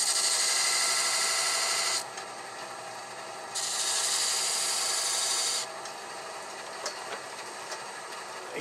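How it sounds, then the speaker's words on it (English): Sandpaper rubs across a wooden jar in two long, even rasping passes, going up to 400 grit, with a short quiet gap between them and faint scrapes near the end. "We sand up to 400."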